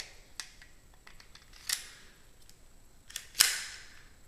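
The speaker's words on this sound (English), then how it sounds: "We're ready to go ahead and put the slide back on the pistol." Sharp metallic clicks as the slide of a Kel-Tec P3AT pistol is fitted back on: two or three faint ticks, then two louder snaps about two seconds apart, close up with no talking.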